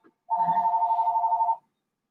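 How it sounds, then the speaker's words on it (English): A telephone rings in the background with one sustained warbling electronic trill lasting just over a second, clear and moderately loud against otherwise quiet surroundings. "The phone's ringing now in the background."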